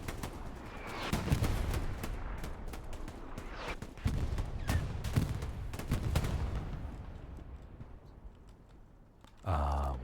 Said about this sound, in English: Ooh, nice arty round from LCM artillery.